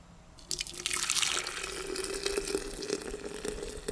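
Boiled tofu pudding mixture is poured through a strainer, a steady liquid splashing and trickling that begins suddenly and continues up close.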